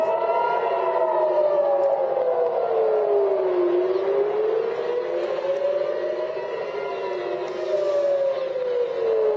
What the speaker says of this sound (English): Now you hear those sirens in Tel Aviv.